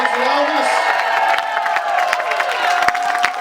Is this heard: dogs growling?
no